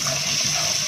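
Water sprayed steadily onto an object to rinse off white residue, a loud, continuous hiss-and-splash rush held close for the whole moment, with no voices over it.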